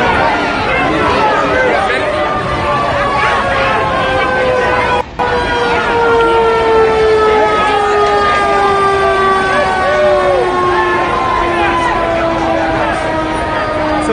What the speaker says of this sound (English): Ambulances are here, as you can hear.